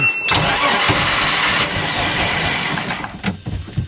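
A Mercruiser 4.3L boat engine, started after winter storage, cranks and catches into a loud, rough running roar up close, then sputters and fades near the end.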